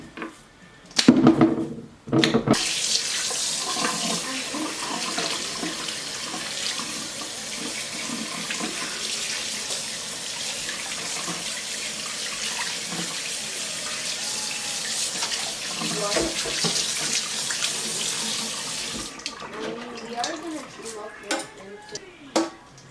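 A kitchen tap runs steadily into a sink while a salmon fillet is cleaned, a loud continuous hiss and splash with faint clinks of dishes, before the water shuts off near the end.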